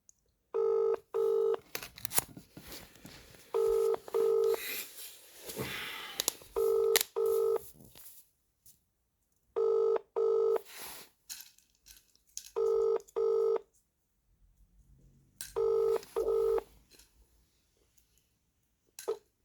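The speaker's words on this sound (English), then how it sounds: "Ringing up Christopher Browell" An outgoing call to a Vodafone mobile ringing: paired tone bursts repeat about every three seconds, six rings in all, steady and fairly loud, with no one talking.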